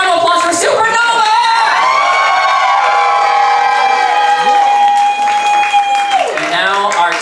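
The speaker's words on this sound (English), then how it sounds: "One last round of applause for Supernova!" An audience at a drag competition show cheers, whoops and applauds loudly for a contestant, with shouting voices and a long held call rising over the clapping.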